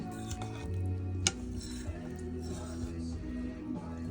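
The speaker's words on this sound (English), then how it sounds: "I'm just giving it a stir." Thick gravy being stirred in a pan on a narrowboat stove, with soft scraping and occasional clinks of a utensil against the metal over a low steady hum.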